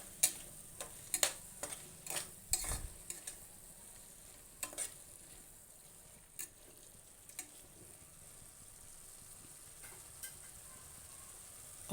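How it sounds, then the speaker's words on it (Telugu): Bitter gourd curry with a pinch of turmeric frying quietly in a pan, a faint low sizzle broken by a series of sharp spoon taps and scrapes that thin out over time. "ఇప్పుడు కొంచెం వేగనిద్దాము."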